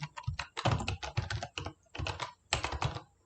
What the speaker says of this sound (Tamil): ஸோ கம்ப்யூட்டர் சயின்ஸ்னு டைப் பண்ணிக்கிறேன்